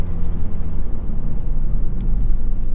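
A car drives along a country lane outside London, giving a steady, loud engine and road rumble that holds without a break, with no voices.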